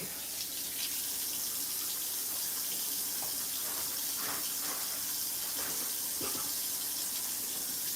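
Kitchen sink tap running steadily, a continuous splashing rush of water close by, with occasional hand or object movements under the stream.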